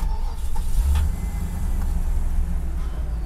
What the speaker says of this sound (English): So anyway, let's check the engine. Does it fire well?